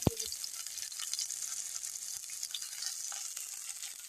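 Onions and dried chillies fry in hot oil, giving a steady bright sizzle throughout with a few soft stirring knocks near the start, close and fairly quiet.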